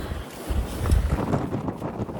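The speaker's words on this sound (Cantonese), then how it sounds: "兩邊都係海風，吹到黐孖筋。" Strong sea wind buffets the microphone on a narrow road between two seas in a remote Hokkaido town, a steady loud rumbling roar with gusts swelling near the middle, no talking.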